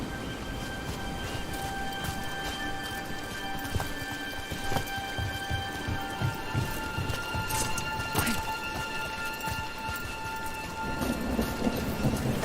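Steady rain falls with rolling thunder in a stormy outdoor scene from the video game Dragon Age: The Veilguard, with crisp rhythmic clopping and sharper cracks over the continuous downpour.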